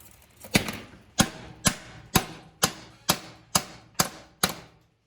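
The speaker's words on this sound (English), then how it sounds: "I'm just gonna kind of tap it and see if I can get this piece to come loose" Nine evenly spaced, sharp taps of a soft hammer on a metal motorcycle part, each ringing briefly, close and fairly loud, with no talking.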